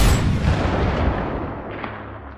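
Sniper gunshot, a single heavy boom with a booming low-end blast and a long rolling echo that fades over two seconds, loud and alone.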